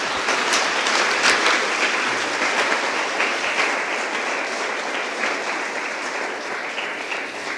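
A church congregation applauds together in a dense, sustained wash of clapping that holds steady for several seconds and gently fades toward the end.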